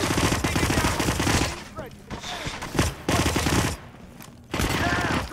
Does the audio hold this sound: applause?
no